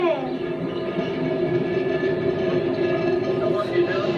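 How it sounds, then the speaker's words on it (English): Train rolling past close by with a steady, loud rumble and rail noise throughout, while voices talk faintly underneath. "This is the outfit behind me, and these are the trains."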